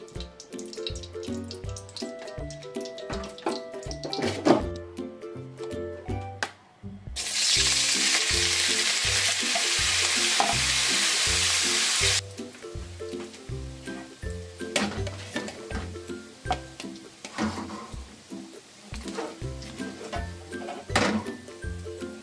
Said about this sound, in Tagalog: Pipirito ko lamang po yung hotdog. Lagay po tayo ng mantika. Para mapirito po natin yung hotdog.